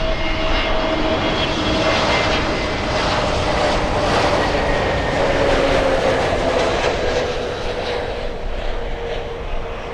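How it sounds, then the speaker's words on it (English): A Sky Airline Airbus A320neo flies in to land at Miami International Airport, its jet engines roaring loud and continuous overhead with a slowly shifting whine. "Sky Airline flying in from Lima, Peru"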